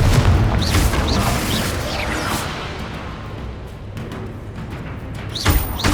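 A Confringo blasting spell explodes in Hogwarts Legacy, a deep booming blast amid a dense, continuous wash of combat noise with whooshing swishes, another punchy burst hitting near the end.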